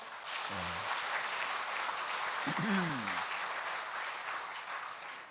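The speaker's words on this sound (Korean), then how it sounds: "여러분, 그러니까 우리 박수를 한번 쳐야 되겠죠?" A Catholic congregation clapping during a Trinity Sunday Mass, a broad, even wash of many hands that runs throughout, with a voice briefly speaking over it.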